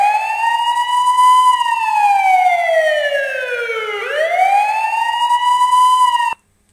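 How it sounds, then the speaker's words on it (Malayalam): A mobile phone's anti-theft alarm blares a loud electronic siren, sweeping smoothly down and back up in pitch for about six seconds before cutting off abruptly. "ഫോൺ സൈറൺ ചെയ്ത് കഴിഞ്ഞിട്ടുണ്ടെങ്കിൽ"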